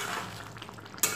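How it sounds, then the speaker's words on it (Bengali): Fish curry of snakehead (shol) in a pot being stirred on the stove after the lid comes off, a soft scraping stir over a low sizzle, with a brief clink of the spoon at the end. "ঢাকনাটা খুলে মাছের ঝোলটাকে ভালো মতো নাড়াচাড়া করে দেব।"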